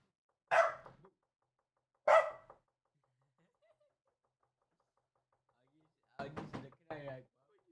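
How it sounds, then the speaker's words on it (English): Two sharp, loud knocks or barks in quick succession, then silence, followed by a brief spoken phrase. "of course Augie would think someone is barking"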